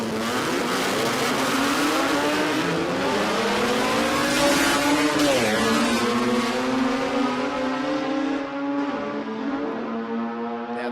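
Naturally aspirated rotary engines in drag race cars, a Datsun and a Corolla, scream loudly and continuously at the Brisbane Jamboree, their rising and falling harmonic whine sweeping upward through gear changes for about eleven seconds with no talk.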